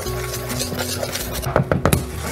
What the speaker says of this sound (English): 1/4 teaspoon of ground nutmeg, 1/4 teaspoon of ground cloves, and then just whisk that up.